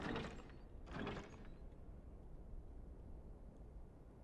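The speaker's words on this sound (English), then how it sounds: "Just magic doors." Magic doors open in Final Fantasy XIV with two quick, airy sliding whooshes in the first second and a half, then a soft, low hum that lingers without voices.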